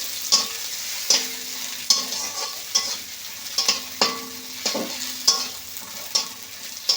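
Cashews and raisins frying in a wok for a payesh sizzle steadily while a spatula scrapes and taps the pan in a regular rhythm, about every second, close and clear.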